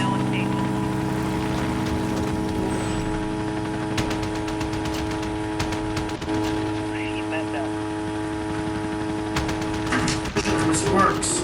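A chopper gunner killstreak in Call of Duty Modern Warfare, a steady helicopter engine drone with bursts of rapid gunfire scattered through, under continuous talking.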